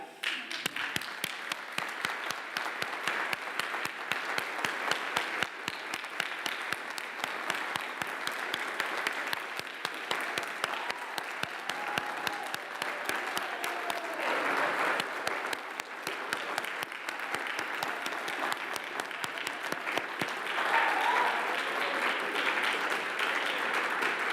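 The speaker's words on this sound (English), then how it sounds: "you may show your appreciation of their support by clapping" Sustained audience applause fills a university winter conferring ceremony hall, dense steady clapping from a large crowd continuing for over twenty seconds without pause.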